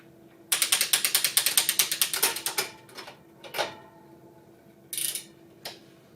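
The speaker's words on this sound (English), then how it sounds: "You'll want to start by shifting the bike into the highest or smallest gear." A bicycle rear drivetrain ratchets in a fast run of crisp clicks that slow and fade, followed by a few separate mechanical clicks and light knocks, close up and with no talking.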